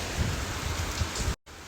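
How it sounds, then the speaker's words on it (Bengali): Heavy rain pours steadily in Barishal during a hot spell, with low rumbling thunder rolling beneath the dense hiss before a brief cut to silence near the end. "এই যে অনেক বৃষ্টি হইতে আছে"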